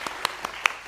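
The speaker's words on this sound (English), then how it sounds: "Let's give them another round of applause." An audience at a Parliament event on women in Parliament gives a short burst of applause, with several distinct claps ringing out.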